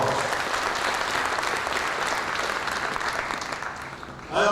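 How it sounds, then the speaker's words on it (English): A large convention audience claps steadily in dense, sustained applause for religious leaders at an interfaith peace gathering, and a voice cuts in at the very end. "Could we give all of them a round of applause?"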